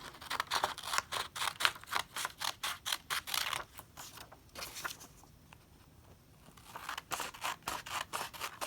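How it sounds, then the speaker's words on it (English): Scissors snip steadily through a paper smocking pattern, a rapid series of crisp close cuts that pause briefly midway before resuming at the same pace. "I'm going to go ahead and cut my pattern apart"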